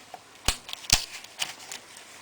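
A connector snaps loose inside a Toshiba A300 laptop during disassembly, heard as two sharp, close plastic clicks followed by a few fainter ticks in a quiet room.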